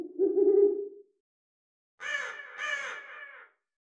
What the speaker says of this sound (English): I have owls and a raven that already delayed and reverbed to feel distant.